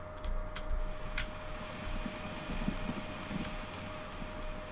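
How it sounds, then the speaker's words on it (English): Horse-drawn vehicles clip-clop in the Transport Fever video game, a faint, steady patter of hoof taps over a low background hum with a sustained tone and occasional sharp clicks. "That's why I hate horse-drawn vehicles. Very slow"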